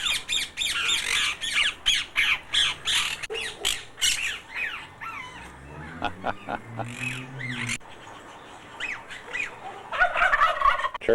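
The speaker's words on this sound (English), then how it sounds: "Big white turkey." White turkeys at a bird park in South Africa gobble and squawk in repeated rattling bursts, loud and close, alongside other bird calls and a brief voice in the background.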